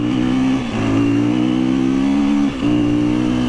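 A motorbike engine holds a loud, steady rev close by during a wheelie at an off-road riding school. The throttle cuts out briefly twice before the engine picks back up again.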